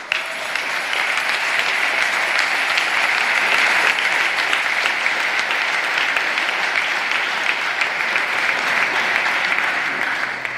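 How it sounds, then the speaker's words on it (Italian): Sustained, loud applause from a large outdoor congregation at a World Youth Day Mass in Ribamar, Lisbon, a dense steady roar of many hands clapping for the Pope without pause. "Gli applausi sono al Papa"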